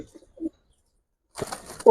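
Restless pigeons of an old Giribaz breed give short bursts of wing flapping and shuffling with a brief coo at the end, close and quick within two seconds, a faint voice nearby.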